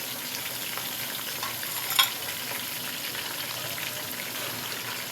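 Keema, a kilo of minced meat, hits a pan of fried onions for a Pakistani khara masala dish, giving a steady broadband sizzle with one brief louder splash early on and no talking.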